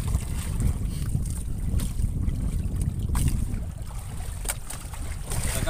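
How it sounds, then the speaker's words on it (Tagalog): Big waves and strong wind surround a small fishing boat at sea in rough weather, a loud, steady rush of water and gusting wind noise that fills the whole clip without a break. "Malalaki ang alon."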